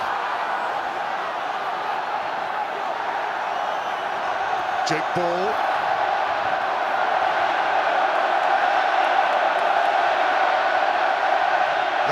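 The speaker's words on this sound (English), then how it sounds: "The crowd in full voice" A steady roar from a rugby stadium crowd at an England v Wales match in 2017 fills the whole stretch, loud and sustained, with a commentator talking over it.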